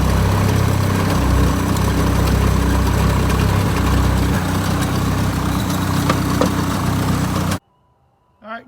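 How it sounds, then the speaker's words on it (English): An old Toyota Wolverine engine idles after a restart with a choppy, uneven note, steady and close for several seconds before cutting off abruptly. "Let's crank it back up again. It runs good for a little bit. It's kind of choppy."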